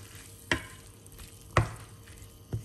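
Shirataki noodles, also called Hakka noodles, being stir-fried in a pan: three sharp scraping stirs land about a second apart over a faint, steady sizzle, close and fairly quiet.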